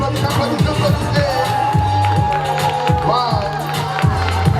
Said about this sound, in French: Applaudissez pour elle, applaudissez, applaudissez, applaudissez.